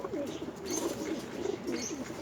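Domestic pigeons coo in soft, repeated rolling phrases close by, a steady throaty murmur continuing throughout with faint chirps in the background.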